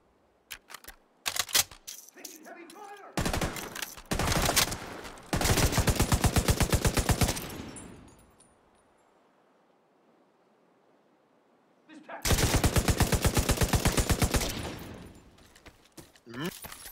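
Heavy automatic gunfire in the video game Division 2 erupts in long, loud, rapid bursts, with a pause of quieter ambience between them and a few scattered single shots at the start.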